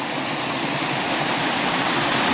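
Steady, loud broadband rush of a waterfall that once powered a settlers' grain and corn mill, a dense continuous roar with no pauses and no voices.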